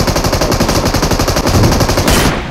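M24 sniper rifle fire in the video game PUBG, a loud, dense burst of rapid gunshots echoing continuously for a couple of seconds before cutting off abruptly.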